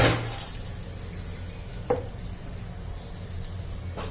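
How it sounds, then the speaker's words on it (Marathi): Tomato chutney with red chilli powder being stirred in a pan, a soft continuous sizzle and scraping with a couple of light utensil taps, close and fairly quiet. "छान असं आपण मिक्स करून घेऊया आता"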